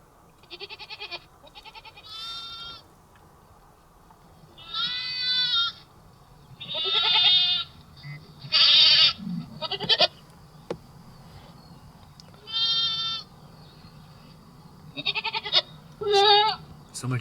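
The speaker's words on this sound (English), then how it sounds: "Let me pull up some goat sounds." Goat bleats played from a phone speaker at night in a hollow, a series of thin, wavering cries in irregular bursts over a quiet background, each lasting about a second.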